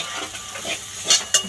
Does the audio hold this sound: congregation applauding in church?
no